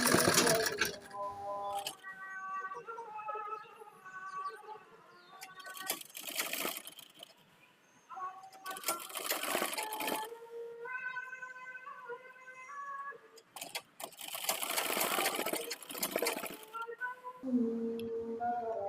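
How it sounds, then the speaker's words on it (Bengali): Sewing machine stitching a sleeve onto a blouse, whirring in several bursts separated by pauses, with someone talking over the gaps. "এখন আমি এটা আবার সেলাই করে দিতেছি"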